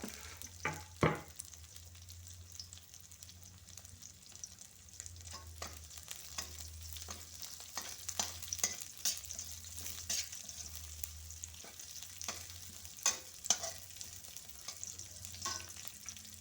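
Ginger, red and green chilies and bay leaves stir-fried in a pan, a steady sizzle with frequent scraping clinks of a spatula against the pan, close and continuous, no voices.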